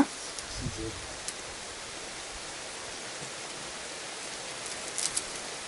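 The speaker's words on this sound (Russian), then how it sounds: "Дождь идет, ребят," Steady rain falling outdoors, a soft continuous hiss of drops on surfaces, faint and even, with a few brief knocks and indistinct voices in the background.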